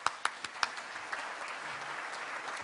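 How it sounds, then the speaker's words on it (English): An audience at a Rotary club meeting applauds for guests, opening with a few sharp individual claps that swell into steady, moderately distant clapping before fading. "Let's give them all a round of applause."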